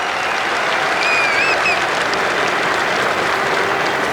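Steady applause rolls around a packed ground at an England v India Test cricket match, a thick sustained patter of many hands clapping at a distance, with a brief whistle cutting through.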